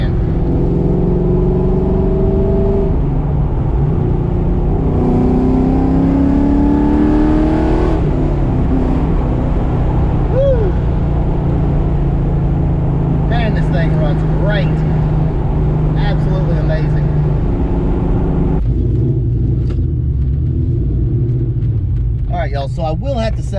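A foxbody street car cruises with a steady, loud engine and exhaust drone, its pitch rising and falling slightly, the exhaust vibration carrying through the cabin for the whole stretch.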